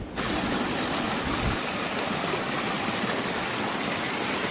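The Thamirabarani river stream in the Papanasam forest rushes steadily, a dense, continuous wash of flowing water heard alone and close by.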